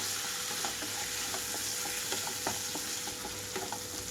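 Chicken frying in a covered pan for a cucumber chicken curry, a soft steady sizzle with faint intermittent ticks and pops, quiet and continuous.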